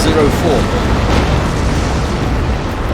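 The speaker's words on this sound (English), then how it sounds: "Another orbital bombardment." Orbital bombardment in Warhammer 40k: Dawn of War 2, a loud, sustained rumbling blast filling the whole stretch with dense low roar, a commentator's voice faintly underneath.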